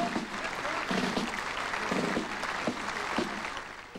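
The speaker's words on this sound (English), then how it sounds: "veterans marched to applause as they left Anzac services." Outdoor applause for veterans marching away from Anzac services in New Zealand, a steady, dense patter of many hands clapping at moderate distance with no voices standing out.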